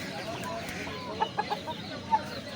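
Large roosters for sale clucking close by, a quick run of three short clucks followed by one more, over a faint murmur of background voices.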